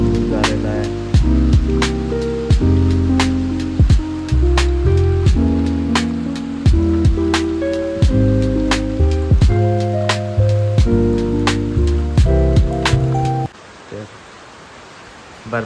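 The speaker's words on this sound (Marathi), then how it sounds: "आमच्याकडे असा पाऊस आहे ना." Heavy monsoon rain pours steadily in Mumbai, a dense continuous hiss with sharp drips or taps striking a surface nearby, loud and close, easing to a quieter wash near the end.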